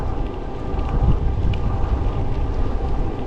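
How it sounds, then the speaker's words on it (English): Strong wind buffets the microphone during an e-bike ride, a steady, loud, low roar with gusty surges throughout. "it is pretty windy"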